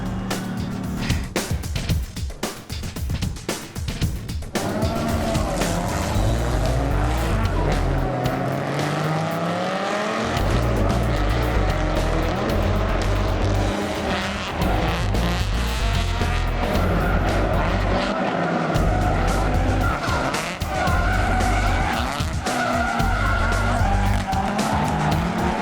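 Race car drifting and skidding during a championship event, with a loud engine roaring and revving steadily alongside long tire squeals and skids, close and continuous throughout.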